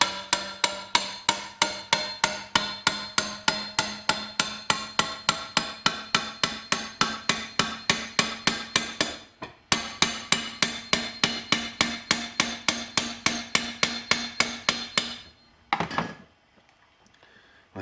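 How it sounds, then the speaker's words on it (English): Rapid, evenly spaced metallic taps from a dent raising tool working a Remington Whitmore shotgun barrel, a long run of sharp strikes, a brief pause, then another run ending in a louder knock. "We're going to have to use our dent raising tool."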